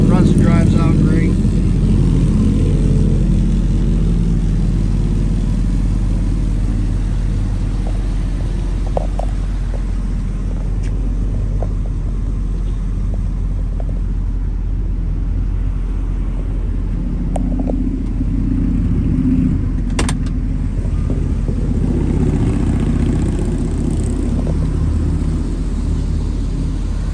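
Engine of a 1966 Ford Thunderbird idling close by, a loud, continuous low rumble holding steady for the whole stretch with only small fluctuations and a few faint clicks.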